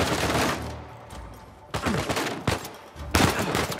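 Enemy gunfire in Uncharted 4, bursts of shots near and loud, arriving in two dense clusters with a quieter gap between them.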